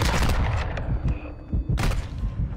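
Call of Duty video game gunfire, including sniper shots, comes as rapid loud bursts and sharp cracks. The shots cluster at the start and again near the end, with brief lulls between.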